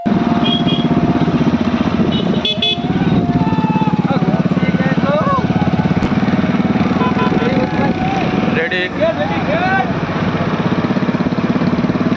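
A motorcycle engine hums steadily as the bike rides alongside young runners in a traditional village race, close and continuous, with voices and shouts mixed in over the engine.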